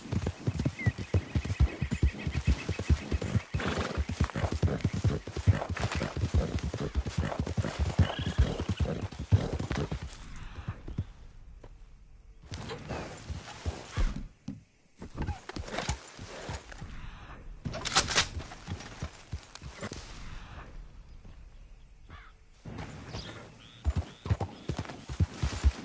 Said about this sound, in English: That horse can't be in town.